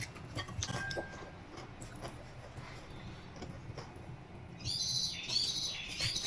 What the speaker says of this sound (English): Look up, can you hear the birdies?